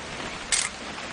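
A single crisp camera shutter click in What Remains of Edith Finch, a brief bright snap over a faint steady background hiss.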